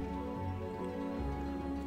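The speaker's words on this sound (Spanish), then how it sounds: "mientras la lluvia golpeaba con fuerza el techo" Rain pounding hard on a roof at night, a steady dense wash of drumming that stays constant and fairly loud, with no voices.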